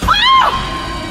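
A woman's loud, sharp scream in a dramatized Hindi horror story, one short wavering cry that rises and falls, standing alone without talk.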